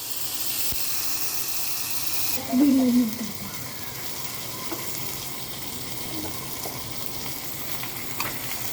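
Fenugreek leaves go into hot oil with asafoetida, and a bright hiss cuts off abruptly into a softer, steady sizzle. A brief voice rises just after, then faint clinks over the ongoing frying.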